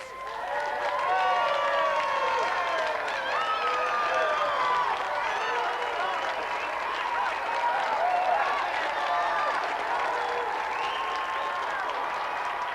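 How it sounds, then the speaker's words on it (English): Studio audience applauding on a Gamesmaster game-show set as a contestant is called down, steady dense clapping with some cheering, loud and sustained throughout without a break. "Give him a round of applause."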